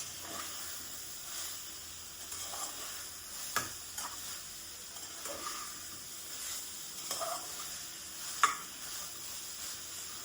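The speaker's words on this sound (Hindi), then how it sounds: "अब हम आँच को तेज कर थोड़ा सब्जी को फ्राई कर लेंगे।" Vegetables for a masala veg pulao fry in a pan over raised heat, giving a quiet, steady sizzle with a few brief stirring clicks and ticks scattered through.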